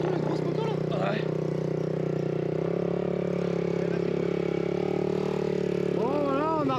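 Honda 500 CR motocross bike with a new cylinder running after a rebuild, a steady droning engine note held throughout with slight revving toward the end, with people talking over it.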